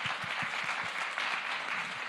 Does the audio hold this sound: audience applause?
yes